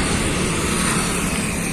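A Kawasaki Ninja 650 motorcycle engine runs with a steady, loud, close broadband roar that holds an even level throughout, with no voices.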